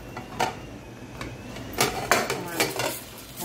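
A metal frying pan clanks and scrapes as it is handled in a home kitchen while making mchewcha, sharp knocks of pan and utensils standing out over a soft background hiss.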